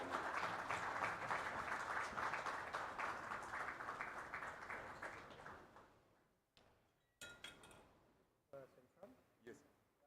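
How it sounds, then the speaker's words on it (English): Conference audience applauding in a hall, brisk clapping that fades out halfway through, followed by a few isolated knocks and clinks in the quiet room. "May we have a round of applause"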